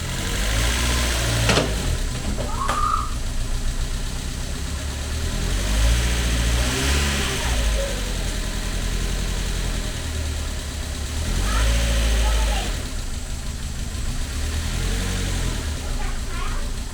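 A Mazda MX-5 engine, freshly installed with an automatic gearbox, runs steadily at its first start, a continuous mid-pitched drone with occasional revs rising over the idle, close and loud throughout with brief talk over it.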